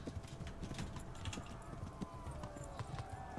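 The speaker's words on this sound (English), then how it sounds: "Alright, Horsey." A horse's hooves clip-clop at a steady pace in the video game Kingdom Come: Deliverance, faint and rhythmic under low background noise.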